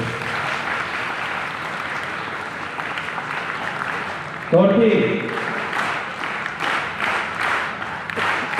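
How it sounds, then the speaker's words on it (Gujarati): A school audience claps for their teachers, a sustained wash of applause from a large crowd that swells briefly midway, while a voice speaks over it. "એકવાર તમારા શિક્ષકો માટે જોરદાર તાળીઓ વગાડીએ"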